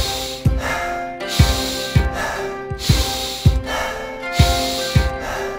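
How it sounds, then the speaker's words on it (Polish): Rhythmic breathing exercise with deep inhales through the nose and quick, forceful exhales through the mouth, repeated about six times in a steady tempo, loud and close, with a soft music bed underneath. "Robimy głębokie wdechy nosem do brzucha, aż po klatkę piersiową i szybko wydychamy ustami."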